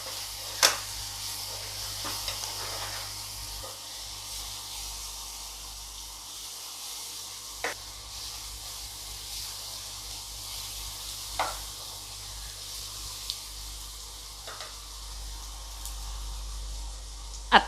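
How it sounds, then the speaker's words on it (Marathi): Tomato sautéing in a pan for a Marathi val (field bean) curry gives a steady, soft sizzle close by, broken by a few sharp clicks and scrapes of stirring, with no talking. "टोमॅटो घालूया. तो पण चांगला परतून घेऊया जरा."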